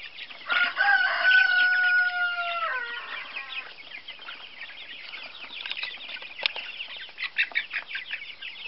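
Egg-and-meat breed chickens about 45 days old cluck and chatter nearby, starting with a drawn-out crow, then a busy stream of short clucks and peeps.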